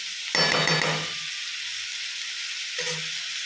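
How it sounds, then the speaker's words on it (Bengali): Vegetable curry is sautéed with spices in a pan, a quiet background hiss broken by a short scraping stir and sizzle near the start and another brief stir near the end. "সেই মশলাগুলো দিয়ে কষে নেব"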